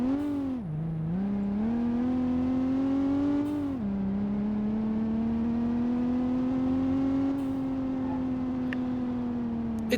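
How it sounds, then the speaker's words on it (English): A car engine in the BeamNG.drive driving game hums and revs, its pitch dipping briefly, then climbing and holding a steady, smooth drone alone for the whole stretch. "I'm not a fan of the remastered engine sound for this car."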